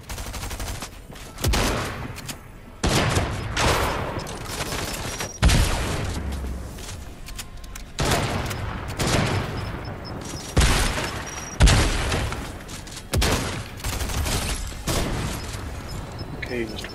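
Video game combat with grenade explosions and gunfire, repeated loud booming blasts and bursts spaced across the clip, with quieter stretches between them.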